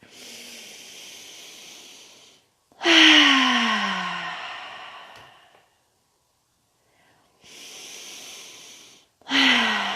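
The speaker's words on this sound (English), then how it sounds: "I'm going to take a few breaths" A person taking several slow, deep breaths, each a long airy inhale or exhale separated by silent pauses, close and clear with no talking.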